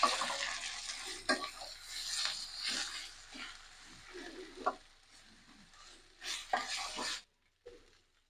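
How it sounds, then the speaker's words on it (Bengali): Cumin paste and spices stirred and sizzling in a cooking pot, a soft frying hiss with scraping spoon strokes and an occasional clink, fairly quiet, ending abruptly. "এটা এখন সুন্দর করে নেড়ে দিতে হবে।"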